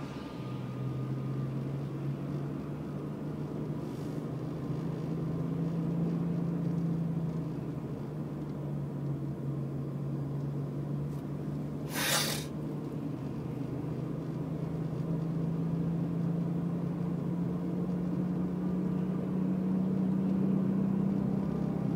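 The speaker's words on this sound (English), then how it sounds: "Gas engine is running." Gas engine of a Toyota Prius hybrid with a 4 kWh battery conversion running steadily in traffic, a low continuous hum with slowly rising pitch heard from inside the car, plus one brief sharp noise midway.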